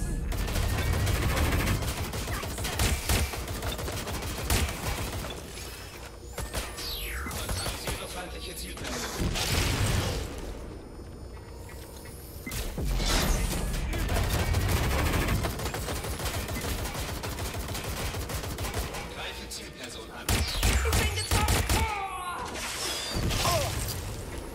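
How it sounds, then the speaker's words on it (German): Heavy video game gunfire from Watch Dogs: Legion rattles in dense volleys and bursts, with crashes and whooshes layered in, loud and nearly continuous for the whole stretch. "Schüsse!"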